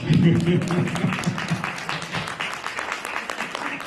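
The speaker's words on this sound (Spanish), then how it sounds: "Le damos un aplauso a uno que quedó parado nomás." Audience applause at a talk on gut microbiota, a steady patter of many hands clapping that fades gradually, with a voice speaking over the start.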